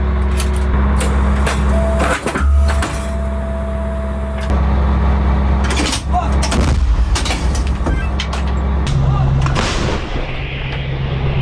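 Heavy FH-70 howitzer artillery booms out in loud, deep blasts over a constant engine rumble, with clanks and rattles of machinery between the shots.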